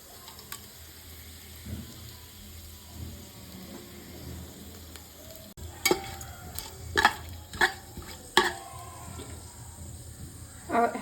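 Bay leaves dropped into hot oil on low heat while making fresh peas pulao, a steady low sizzle with clinks of a spoon stirring the pan, close up, with no talk.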